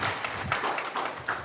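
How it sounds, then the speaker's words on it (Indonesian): A church congregation claps for God during an online worship service, with a short run of soft, loose handclaps at a steady pulse, moderately distant, without talking. "yang mau berikan tepuk tangan meriah buat Tuhan kita"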